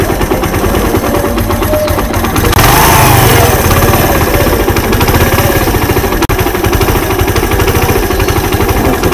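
A Suzuki Intruder 125 motorcycle with a misfiring engine runs steadily and loudly up close while its throttle is adjusted, a rapid chugging idle that rises briefly partway through.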